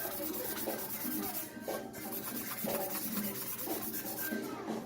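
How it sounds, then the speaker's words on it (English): Wet sanding an epoxy-coated tumbler in a sink, a continuous close scratchy rubbing with rhythmic back-and-forth strokes and faint watery sounds. "and I wet sand it in the sink."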